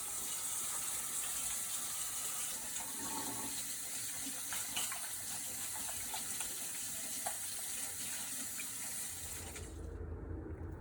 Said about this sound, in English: First, we're going to wash our hands.